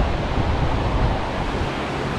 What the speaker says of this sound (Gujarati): આ બ્રિજ નીચે એક નદી જાય છે